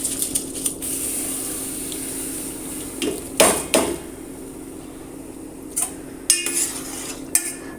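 Soaked kaima rice stirred into prawn biryani stock in a pot, with a spoon giving scattered metallic clinks and scrapes against the pot over a steady low simmering hiss.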